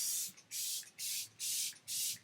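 Setting spray is misted onto a face in five even bursts, each a steady close hiss of about a third of a second, with short pauses between.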